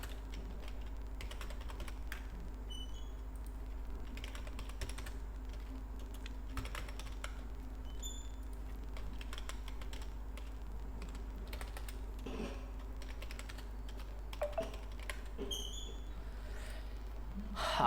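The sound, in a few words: typing text on computer keyboard in Excel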